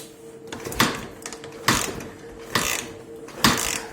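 Kickstart lever of a Dnepr-11 motorcycle, rebuilt from scrap, being turned over to check compression: four evenly spaced mechanical clunks with a ratcheting rasp, close and moderately loud, no voices.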